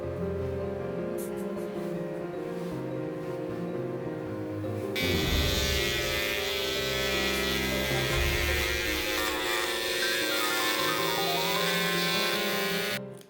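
An electric carving tool trims a tufted yarn rug with a steady buzzing drone that gets louder and rougher partway through as it bites into the pile, then runs on evenly.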